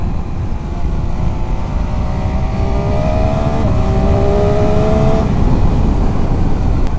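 A 2019 MV Agusta F3 800 triple motorcycle engine roars loudly and steadily while riding, heard close from the rider's helmet with heavy wind rush and a rising tone as it accelerates.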